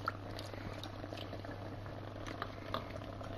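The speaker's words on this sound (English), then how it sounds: "I shall just let that boil for 20 minutes and then strain it off." A pot of nettle beer with lemon boils steadily on a stove, a soft continuous bubbling with occasional pops over a low constant hum, with no talking.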